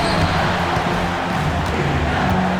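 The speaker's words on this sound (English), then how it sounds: "And how about this crowd right now? They are bananas." A basketball arena crowd roars in NBA 2K25 during a tied online game, a dense and steady wall of cheering with faint ball bounces underneath.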